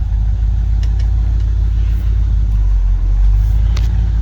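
A 1971 International Travelall 1210, revived after sitting for 22 years, rumbles loud and close with a deep, steady engine drone as the clutch engages, with a few faint clicks on top.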